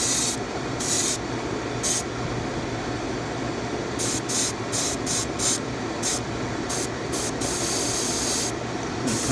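An old, clog-prone airbrush sprays paint onto a 3D-printed fishing lure, giving a steady close hiss broken by short bursts and pauses as the trigger is worked, with no voices.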